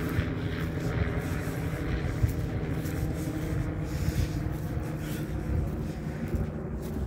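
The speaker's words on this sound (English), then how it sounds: "Police helicopter flying overhead." A black police helicopter flies overhead during a morning walk, its steady low rotor drone loud and continuous throughout with no talk.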